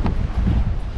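Strong wind buffets the microphone aboard a ferry boat in a low, continuous rumbling roar, close and loud throughout.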